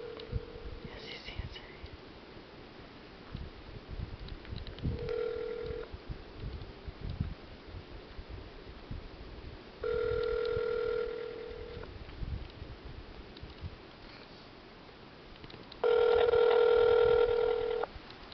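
A phone call goes unanswered, with ringback tones sounding through the handset in repeated bursts separated by pauses. The bursts grow louder toward the end, and faint talk and room noise fill the gaps between rings.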